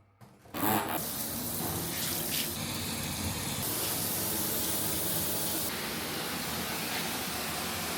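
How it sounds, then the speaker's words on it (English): Deep, roomy hotel bathtub in Pattaya filling under a strong tap, a loud, steady gushing spray of water that starts abruptly and runs continuously up close. "With such strong water flow, it fills up impressively fast."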